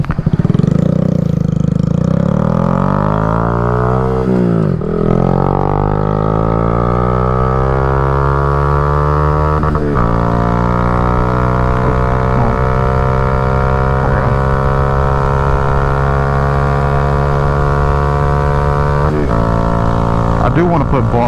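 CFMOTO Papio SS motorcycle engine droning loud and close while riding, revving up and shifting through gears with rising and falling pitch, a rider speaking intermittently over the exhaust.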